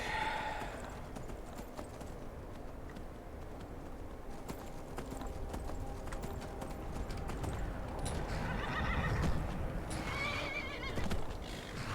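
A horse in the Skyrim video game trots with steady clip-clopping hooves and lets out whinnies, the game's ambient background running continuously underneath at moderate level.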